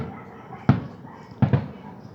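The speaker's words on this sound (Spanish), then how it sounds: "Esos sonidos que ahorita acaban de oír como cohetes, es que se está inaugurando la feria de León, y avientan unos cohetes" Firework rockets go off at the opening of the León fair: one sharp bang, then a quick double bang a moment later, all heard from some distance against a quiet background.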